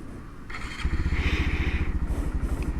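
A 2019 Honda Monkey motorcycle engine cranks and catches at close range, then settles into a steady, throbbing idle with a rapid, even pulse.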